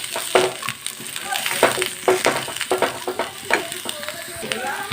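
Chopped vegetables and green chilli fry in a pan as a spoon stirs them, making repeated scraping clatters over a steady sizzle.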